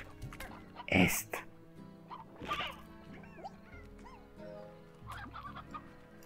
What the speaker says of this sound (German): hier habt ihr noch Hühner